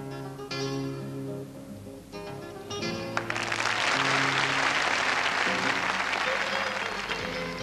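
Arena crowd applauding at a 1992 DTB Cup gymnastics floor exercise: background music plays, then clapping swells into a dense, sustained roar of applause that carries on steadily to the end.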